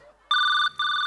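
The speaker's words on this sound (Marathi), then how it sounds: "फोन घ्या." A telephone rings with a loud electronic double-tone trill, two close bursts separated by a short gap.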